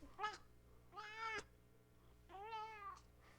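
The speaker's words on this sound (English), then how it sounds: "You always gotta let him meow." A cat meows loudly three times, long drawn-out wails spaced a second apart, close and clear in a quiet room.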